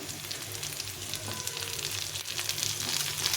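Diced capsicum frying in a pan with softened onion, a steady close sizzle with faint crackle running throughout, no voices.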